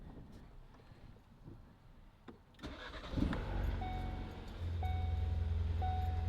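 A car in neutral with the brake set cranks and its engine catches, settling into a steady, louder idle hum after a few seconds of quieter background noise, recorded close during a Mountune recirculation valve replacement.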